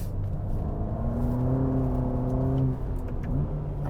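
A 2020 Ferrari Roma's engine pulls hard under acceleration, a steady, loud, rising drone with climbing harmonics that holds for nearly three seconds, then eases and drops in pitch before building again.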